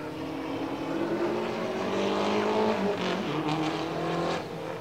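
Engines of a Nissan Xterra and a Mazda roar in a spectator drag race at Rockford Speedway, with loud, rising engine pitches that sweep upward and then cut off near the end.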